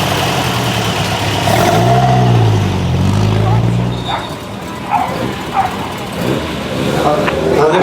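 A Triumph 2.5 engine revs up loudly close by at a classic car show, rising and falling in two surges before settling, while people talk and a dog barks nearby.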